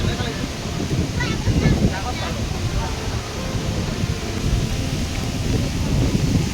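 Phe Phe waterfall near Jowai in Meghalaya roars with a dense, continuous rush of fast-falling water while strong gusts buffet the microphone, and a voice briefly rises over the noise.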